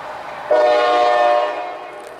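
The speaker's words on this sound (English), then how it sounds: "You know what? That was the coal train." A coal train on a rail line in West Virginia sounds a loud sustained horn blast of about a second over a rumbling background of passing railcars, close and strong.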